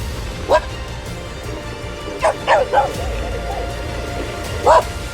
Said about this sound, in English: I don't want to mess around with dogs, man.